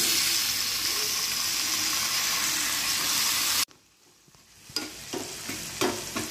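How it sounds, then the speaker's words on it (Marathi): Tomatoes are dropped into a pan of hot oil with onion and green chillies for a Maharashtrian cucumber and gram flour dish. A loud, steady sizzle cuts out abruptly, then comes quieter frying with scraping stir sounds. "आता घालते मी इथे टमाटे"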